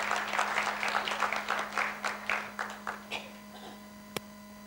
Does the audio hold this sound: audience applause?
yes